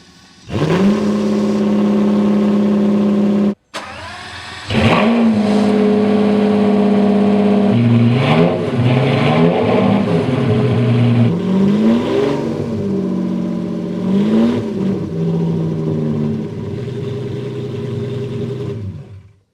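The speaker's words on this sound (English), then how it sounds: "turn her over to hear that Italian V12 sing" A Lamborghini Diablo SV's V12 engine cranks to life, cuts out briefly, restarts, then revs repeatedly before settling into a throaty idle, close up.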